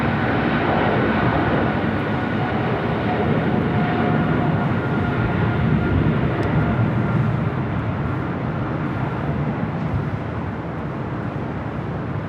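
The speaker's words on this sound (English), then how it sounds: "we got that Japan Airlines 777-300ER, flight 15 heading back to Tokyo Haneda" A Japan Airlines Boeing 777-300ER departing Los Angeles LAX for Tokyo Haneda, a loud, sustained jet engine roar with a faint whine, easing off in the last couple of seconds.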